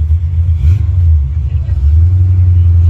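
A Chevrolet with an LS V8 swap idles with a deep, steady low rumble up close at a cars-and-coffee meet, holding an even throb throughout.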